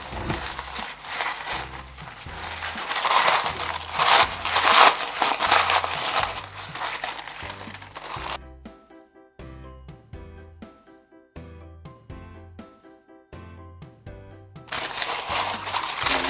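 Layers of tissue paper being peeled apart for a paper flower, giving close, crisp crinkling and crumpling that stops midway while tinkly background music plays, then returns briefly at the end.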